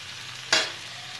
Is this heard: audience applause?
no